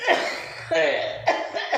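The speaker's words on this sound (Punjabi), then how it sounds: "ਬੀਬੀ ਨੂੰ ਵਿਚਾਰੇ ਨੂੰ ਖਾਂਸੀ ਆਣ ਲੱਗੀ" A woman coughs several times in quick bursts, each cough short and rough, close to the microphone with brief pauses between them.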